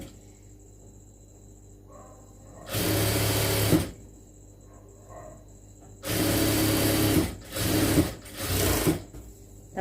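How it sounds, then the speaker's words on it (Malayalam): A sewing machine stitches the folded hem of a churidar sleeve in three loud bursts: a first run of about a second, then a longer run broken into two or three quick pulses, with quiet handling between them. "ഇനി നമുക്ക് സ്ലീവ് അടിക്കാം"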